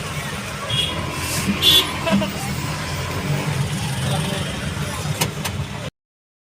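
Steady engine rumble of an auto rickshaw running continuously during a ride, with faint traffic noise and a brief horn-like tone near the start.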